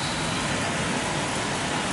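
Heavy rain patters steadily on a car during a storm in Luxembourg as it begins to ease off, a dense, even hiss of drops that carries on without a break.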